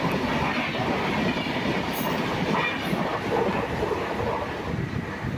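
A train passes Mayanad railway station in a Kerala village, rumbling steadily close by with wheel noise and faint rhythmic clatter, continuous and unaccompanied by talk.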